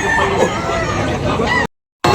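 Chickens and roosters at the Sunday Tabnok Talisay chicken market in the Philippines cluck and crow in a dense, close chorus, broken by a short gap of silence.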